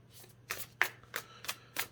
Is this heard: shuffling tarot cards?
yes